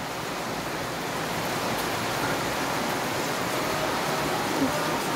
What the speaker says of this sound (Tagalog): Ngayon po ay maulan na naman.